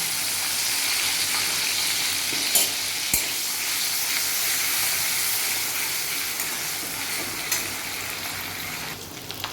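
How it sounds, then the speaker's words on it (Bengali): Ginger garlic paste frying in a pan with cumin seeds for a Bengali-style chicken stew, giving a steady close sizzle that runs throughout, with a few brief stirring clatters. "দেখুন আমার আদা রসুনটা ভালো করে ভাজা হয়ে গেছে"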